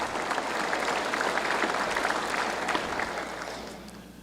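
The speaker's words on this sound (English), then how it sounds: "One more round of applause for these heroes." A crowd applauds steadily during a State of the State address, dense clapping that holds and then begins to fade toward the end.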